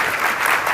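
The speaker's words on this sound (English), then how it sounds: "If we could just give her a round of applause." An audience claps together in a sustained round of applause at a fireside chat event, dense and close.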